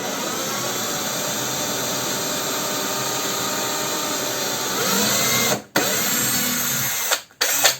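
A power drill bores the first hole through a piece of wood for a spice niche in a woodworking class, a steady close whine running throughout, then briefly cutting out twice near the end as the bit is pulled free.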